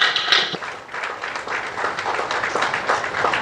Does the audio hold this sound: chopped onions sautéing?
no